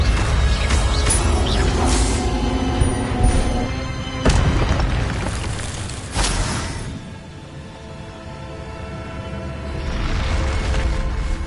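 Expelliarmus spell cast in the Hogwarts Legacy video game: loud booming magical blasts with whooshing swells and crashing impacts, repeated across a dense, continuous game soundscape.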